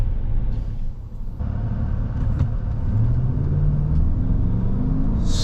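A 2019 Chevrolet Tahoe Premier accelerates off the line through a residential area, heard from inside as a steady low engine and road rumble that swells gradually.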